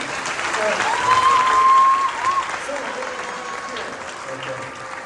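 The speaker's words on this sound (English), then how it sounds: "A round of applause for Bernoulli" An audience at a live magic-and-science show applauds, a dense, steady wash of many hands clapping that swells in the first couple of seconds and then eases off slightly, with a faint voice briefly audible over it.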